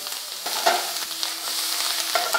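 Kale and leafy greens fry and get stirred in a hot pan, giving a steady sizzle with scraping, tossing strokes throughout, fairly loud and close with no talking.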